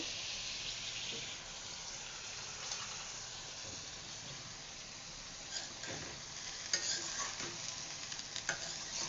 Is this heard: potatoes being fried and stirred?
yes